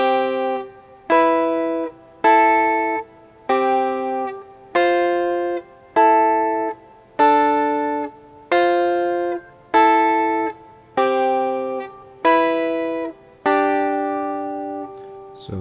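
Guitar chords are plucked in a Shona mbira style with the highest chords dropped an octave, about a dozen evenly spaced ringing strums that each decay before the next, clear and close without talk.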